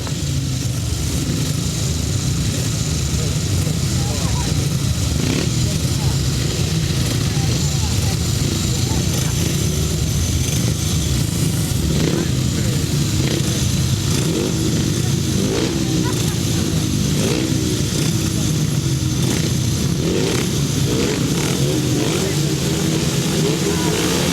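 Several 500cc solo grasstrack motorcycles rev at the start line of a race meeting, a loud continuous engine roar with rising and falling revs throughout, under a commentator's voice on the public address.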